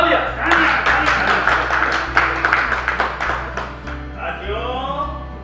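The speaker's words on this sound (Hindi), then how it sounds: "तालियां।" Audience clapping at a stage performance of the Hindi theater drama Naagpash rolls on for several seconds, then fades as a voice takes over.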